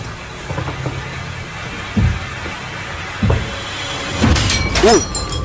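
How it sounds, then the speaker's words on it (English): A wardrobe mirror bursts in a haunted house, with a few scattered thuds and cracks building to a loud crash of shattering glass near the end. "The mirror on the wardrobe burst outward"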